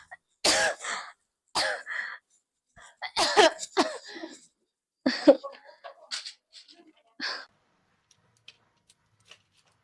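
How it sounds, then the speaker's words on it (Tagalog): Several short, sharp coughs in bursts separated by pauses, close and fairly loud, trailing off into faint ticks near the end. "inuubo ka na naman"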